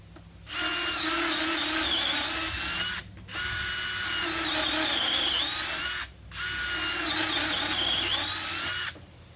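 A DeWalt 12V Extreme cordless drill fitted with a small bit whirs at high speed in three separate bursts of about two and a half seconds each, loud and close, with short pauses between.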